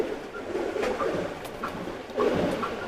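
Soft, low cooing from a small female teddy pigeon, a few murmured coos rising and falling close by over steady faint background noise.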